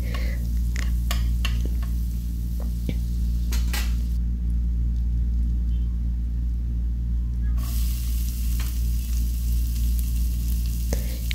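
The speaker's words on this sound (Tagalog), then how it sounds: "I-melt lang natin yung butter. Pagkatapos niyan, ilagay natin yung onion, garlic." Onion and garlic sizzle in melted butter in a pan, a steady close hiss with a few clicks and utensil taps, a quieter stretch mid-way, then the frying flares up again.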